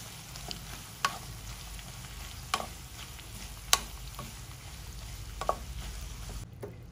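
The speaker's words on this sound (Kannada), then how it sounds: "ಎಣ್ಣೆ ತುಂಬ ಕುದಿ ಇರುವಾಗಲೇ ಇಷ್ಟು ಹಾಕಿ ಚೆನ್ನಾಗಿ ಮಿಕ್ಸ್ ಮಾಡ್ಕೊಳ್ಬೇಕು." Dried tomato and curry leaves are stirred in very hot oil, giving a steady low sizzle broken by occasional scraping clicks of the spoon against the pan, fairly quiet and close, with no talking.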